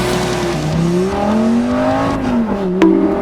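A classic supercar engine revs up loudly, its pitch climbing, then snaps through a quick gear change and climbs again, heard up close with a brief sharp mechanical clunk near the end.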